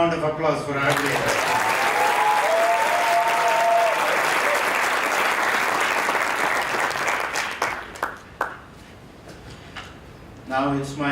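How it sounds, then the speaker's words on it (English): Applause from the audience at a 2018 university graduation ceremony swells into a long, full round of clapping after a short stretch of speech, then fades into scattered claps as a speaker's voice returns. "About another round of applause for our leader."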